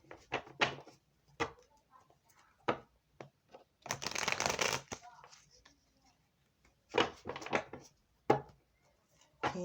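A deck of tarot cards being shuffled up close, in several short riffling bursts and one longer continuous riffle, separated by quiet pauses.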